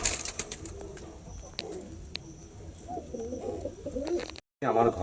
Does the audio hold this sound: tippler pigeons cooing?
yes